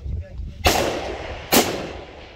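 Two loud, sharp sniper rifle shots about a second apart on a long-range shooting session in Belgorod, each a close crack with a rolling decay, after brief quiet talk.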